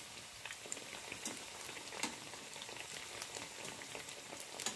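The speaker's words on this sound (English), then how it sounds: "you can see how my vedde is frying now" Soft, steady sizzling and crackling of dal lentil fritters frying in hot oil, with scattered pops over a constant hiss.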